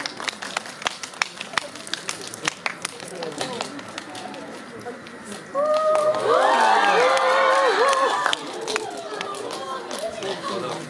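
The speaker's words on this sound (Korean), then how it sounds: "저희 감독님과 배우분들 뜨거운 박수와 환호로 맞이해 주세요." An audience at a film stage greeting in a cinema breaks into loud applause and cheering, a thick wash of clapping and shouts that swells after a spoken announcement and holds steady before tapering off.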